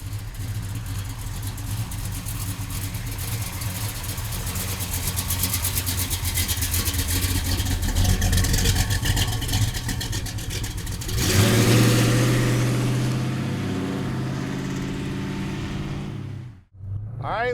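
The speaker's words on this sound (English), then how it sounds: "Now let's go outside and run this car." A 1971 Chevrolet Chevelle Malibu with a big block V8 runs close by, a steady lumpy idle building with throttle blips, then a sharp rev midway, and a sudden drop before it catches again.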